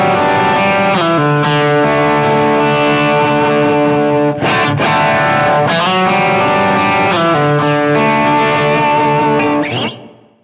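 A distorted electric guitar with effects plays a recurring lick from a song, sustained chords and notes ringing loud and close for about ten seconds before fading out.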